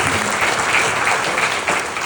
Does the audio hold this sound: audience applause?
yes